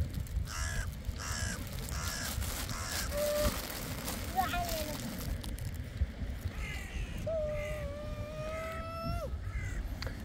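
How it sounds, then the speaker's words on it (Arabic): Crows caw in short repeated calls on a beach, with gulls and wind-blown surf noise in the background and faint talking nearby. "هذا الغراب الفجعان"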